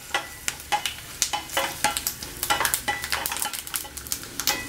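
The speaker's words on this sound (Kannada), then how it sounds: "ನೋಡಿ ಎಳ್ಳೆಲ್ಲ ಸಿಡಿದಿದೆ." Sesame seeds spluttering and popping in hot oil alongside peanuts and chana dal, a dense run of sharp crackles and sizzles with occasional stirring clinks of a spoon against the pan, close up and fairly steady.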